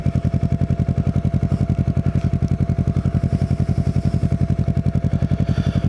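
Kawasaki Ninja motorcycle riding along a coastal road between Cape May and North Cape May, its engine droning in a steady, rapid pulsing rhythm, loud and close throughout.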